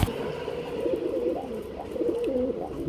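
A racer pigeon coos close by in a steady, continuous run of low throaty calls with a few rising and falling swells, and no one talks over it.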